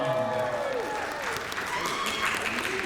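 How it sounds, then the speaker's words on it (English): An anime convention crowd applauds a dancer about to perform at an Asian dance showcase, a steady roar of clapping with a person talking over it. "Big round of applause."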